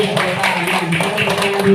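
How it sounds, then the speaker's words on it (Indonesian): Children in a classroom clap their hands in a quick, patterned rhythm, close and fairly loud, with voices and a steady tone running underneath. "tepuk tangan dulu, tepuk tangan"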